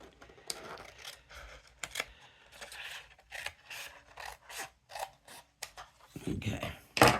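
Scissors snipping paper pieces for a jack-o'-lantern craft, a series of crisp close cuts in irregular bursts, ending with a louder rustle of paper; no talking.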